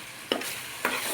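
Spoon stirring coriander and cumin powder into ginger-garlic paste frying in a pan, two short scraping strokes over a soft steady sizzle.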